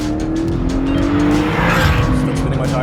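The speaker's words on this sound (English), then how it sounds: "Still spinning my tires." BMW M2, Porsche Cayman GTS and tuned Golf R in a rolling drag race: loud, steady engine roar near the listener, with tire squeal from spinning wheels and a rising engine note.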